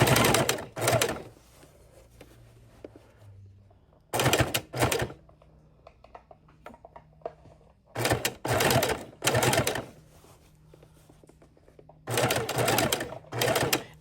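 A sewing machine stitches binding onto a quilt in four loud, fast bursts of rapid needle chatter, separated by quiet pauses filled with faint handling noises as the fabric is pivoted and repositioned.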